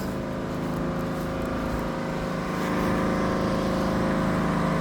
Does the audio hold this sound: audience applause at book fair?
no